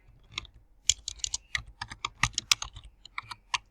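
Computer keyboard typing, quick irregular keystrokes clattering close by in short bursts, with no voices.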